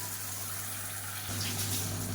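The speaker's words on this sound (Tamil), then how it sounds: "இப்போ மிக்சி அலசிட்டு அந்த தண்ணியை சேர்த்துக்கலாம்" Rinse water from a mixer jar is poured into a pan of radish chutney: a low, steady watery rush that swells and grows louder partway through.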